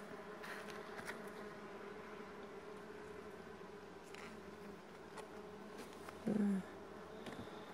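Honeybees hum steadily around an open top bar beehive during a hive inspection, a continuous close drone with a brief louder thump near the end.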